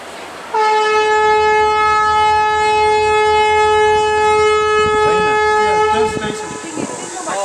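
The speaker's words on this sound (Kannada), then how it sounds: "Train station. ಇವು ಡಬ್ಬೆಗಳು ನಮ್ಮ ಥರನೇ ಇದೆ." A train at a station sounds a long, loud horn that holds steady for several seconds and then fades, with voices heard faintly toward the end.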